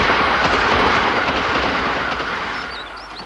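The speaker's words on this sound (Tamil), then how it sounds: "ட்ரெயின் வந்துருச்சு" An express train rumbles past loudly, its roar gradually fading, with a few high metallic squeals near the end.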